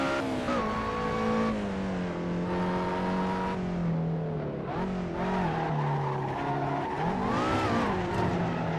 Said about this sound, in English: It almost sounds like this little guy's supercharged.